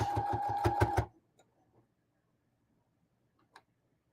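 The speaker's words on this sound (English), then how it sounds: "So I'm going around and sewing close to the edge." A sewing machine stitching close to the edge of a keyfob runs in a fast, rhythmic burst for about a second, then stops, leaving near silence with a couple of faint ticks.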